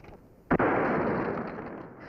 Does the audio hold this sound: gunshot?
yes